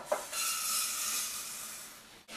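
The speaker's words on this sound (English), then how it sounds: "Keep stirring the rice for 1 or 2 minutes so it doesn't burn" Rice stirred in hot olive oil in a pan gives a steady, close hiss and scrape, with a brief clack at the start and a short break before the sizzle resumes.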